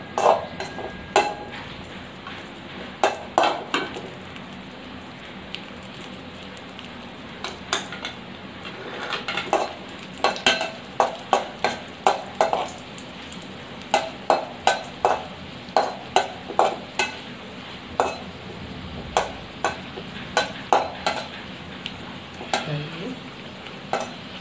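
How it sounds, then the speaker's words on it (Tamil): Cashews fry in hot ghee in a pan, a steady sizzle broken by repeated sharp clinks and scrapes of a spoon stirring against the metal, close and fairly loud. "முந்திரி நல்லா பொன்னிறமாக வறுத்தெடுத்துக்கலாம்."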